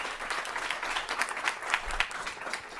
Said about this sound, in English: So all that applause is for staying within the 2 minutes.